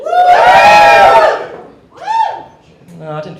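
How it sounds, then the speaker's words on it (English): A comedy club audience lets out a loud, sustained cheer and shouting that swells then drops, followed by a couple of shorter whoops and calls. "If you're a media student, give me a cheer."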